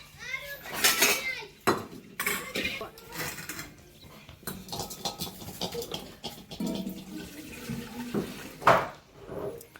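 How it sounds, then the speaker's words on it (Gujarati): Milk from a freshly milked buffalo pours from a bucket into a metal pot, with clattering metal vessels and a splashing liquid stream. The sound is close and busy, with irregular knocks and a faint voice underneath. "ચલો હવે આ દૂધ આપણે આ બેણીમાં રેડી દો"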